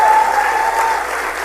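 A conference audience claps for a women-in-business panel, a dense, steady round of applause filling the short moment.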